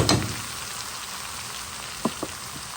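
Brinjal (eggplant) sizzles gently in a frying pan, with a burst of hissing at first settling into a quiet, even fry, then a couple of light utensil taps near the end.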